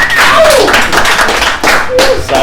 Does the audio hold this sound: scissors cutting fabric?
no